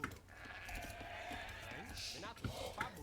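Sheep bleating among livestock in a real-time strategy game while villagers are assigned to herd them, short bleats heard under steady talk over game background sound.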